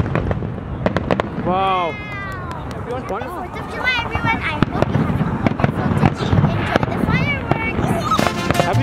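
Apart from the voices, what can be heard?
fireworks exploding on 4th of July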